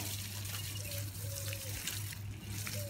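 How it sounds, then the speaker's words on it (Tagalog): A hose runs in a steady, gentle trickle and spatter as garden plants in a large yard are watered, faint and continuous with no other sounds. "Ngayon lang po ako nagdidilig ng tubig sa mga halaman"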